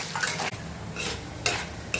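Soya chunks (meal maker) frying in oil for pickle, with a spatula scraping and clanking against the pan in quick bursts over a steady low sizzle.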